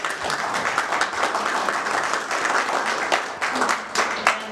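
An audience applauds a choir after a Christmas Eve performance, a dense, steady wash of many hands clapping close by for several seconds, with faint voices mixed in.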